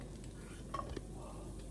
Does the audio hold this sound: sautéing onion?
yes